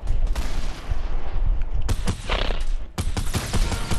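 Rapid bursts of gunfire from the video game Fortnite, dense and loud, with several sharp volleys and fast repeated shots filling the whole stretch with no talking.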